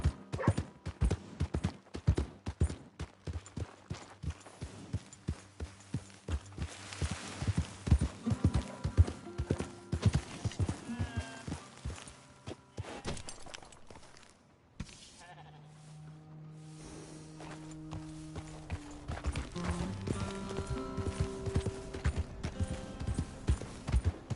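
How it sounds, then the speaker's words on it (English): Horse hooves clip-clop in a steady, rapid rhythm in Red Dead Redemption 2, with game music and sheep-like bleats around them; the pace slows briefly midway. "Hey! My horse!"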